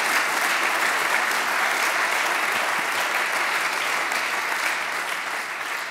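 Sustained audience applause fills a hall at a formal ceremony marking the 100th anniversary of the Free State of Bavaria, a dense, even wash of many hands clapping at steady loudness throughout.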